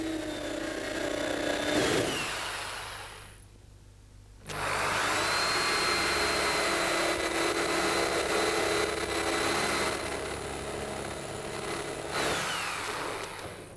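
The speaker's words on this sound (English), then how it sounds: "All the spots drilled out." Power drill boring out spot welds on a car body panel during bodywork repair, a loud steady whine that cuts out briefly near the start and then runs on continuously.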